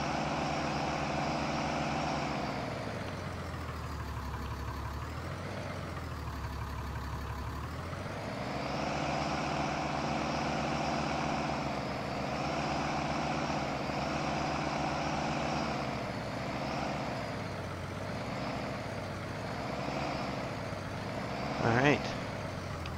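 Farm truck engine idling steadily at close range with a low droning rumble that rises and falls slightly, under occasional talk from the driver.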